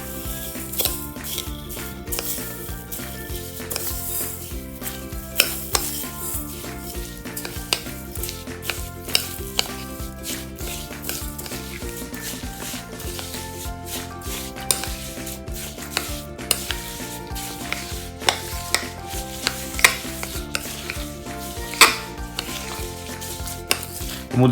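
Peanut butter being mixed with warm roasted horse gram in a pan, with continuous scraping and stirring, frequent sharp clicks of the utensil against the pan, and no talk.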